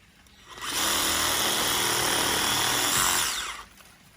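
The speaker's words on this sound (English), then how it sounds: "I've just trimmed the branch off" Ryobi One+ R18PSA cordless pruner cutting a garden branch outdoors, a loud, close motor whir and saw buzz that spins up, holds steady for about three seconds and winds down, with no talking.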